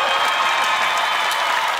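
An audience at a comedy special claps and cheers steadily and loudly, a dense wash of applause with scattered shouts and no talk.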